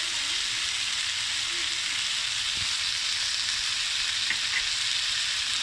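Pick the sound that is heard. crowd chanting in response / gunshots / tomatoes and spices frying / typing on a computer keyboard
tomatoes and spices frying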